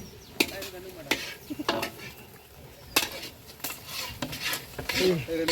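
Noodles are stirred in a pan with a utensil, giving irregular scraping, clinking and rubbing strokes at close range. A person talks softly in between.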